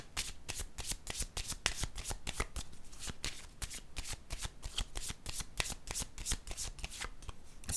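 Tarot cards being shuffled up close, a steady run of crisp riffling and slapping bursts that repeat without a break.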